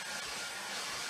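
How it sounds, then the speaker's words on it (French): Hair dryer or heat gun warming a makeup tube, a steady close whooshing blow of air that holds evenly for about a second with no voices. "Soit je prends un sèche-cheveux ou un décapeur."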